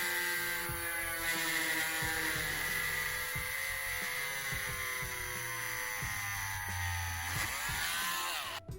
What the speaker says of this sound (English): I'm gonna drill right into the center of this.